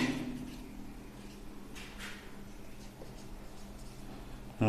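Marker or chalk writing on a classroom board during an English grammar lesson, a few faint scratchy strokes over steady room hum, with one stronger stroke burst near the middle.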